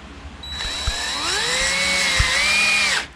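A power drill drives screws into a deadbolt plate during a door lock installation, whirring steadily at close range for about two and a half seconds as its pitch slowly rises, then cutting off.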